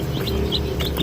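Newly hatched ducklings peep in a brief burst of high, thin chirps, several quick calls over a low background hum.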